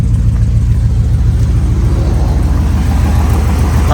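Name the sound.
2015 Sierra truck engine running with new turbo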